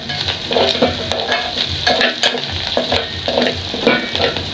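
Onions frying in cooking oil for a chicken stew: a loud, close, continuous sizzle with frequent stirring scrapes and clatters throughout.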